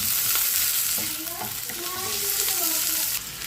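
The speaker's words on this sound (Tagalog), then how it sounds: "onion at garlic. Gisa natin yan hanggang sa bumangon." Chopped onion and garlic sautéing in a pan, a dense, steady sizzle heard up close with occasional stirring scrapes and faint background tones.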